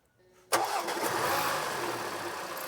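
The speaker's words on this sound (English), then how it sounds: "start the engine" An Audi Q5 SUV engine starts in a repair shop: a short starter crank bursts into a loud catch, then settles into a steady, close idle.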